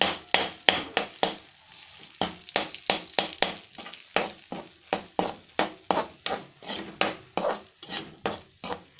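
A spoon stirs besan gram flour roasting in ghee in a pan, scraping and clacking in a steady rhythm of about two strokes per second, close and clear under a soft sizzle.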